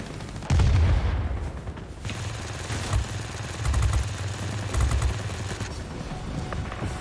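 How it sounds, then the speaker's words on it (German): A heavy bomb dropped in the World of Warplanes game lands as a booming low explosion, followed by several more rumbling blasts and gunfire-like thuds over a continuous engine drone, with no voices. "Dass sie nicht sieht, wie ich hier zum Feiern eine schwere Bombe abwerfe"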